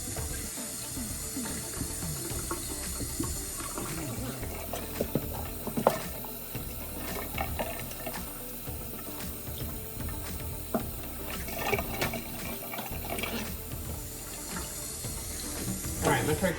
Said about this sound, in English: you can see that I don't have the water going full blast